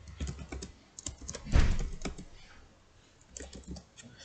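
Typing on a computer keyboard, a quick run of soft key clicks with a heavier thunk in the middle, close and fairly quiet, with no voice.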